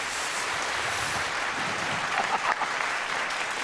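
Studio audience on a Kannada comedy talk show breaks into steady, dense applause that holds at an even level from start to finish, with no voices on top.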